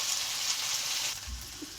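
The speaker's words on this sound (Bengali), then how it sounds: "তো আমি আলু তেলে দিয়ে দেওয়া হলো, পেঁয়াজে দিয়ে দেবো, পেঁয়াজে দিয়ে দেবো, একটু ভালো করে ভাজবো।" Potatoes and onions frying in hot oil give a continuous bright hiss, close and even, easing slightly toward the end with a soft low bump.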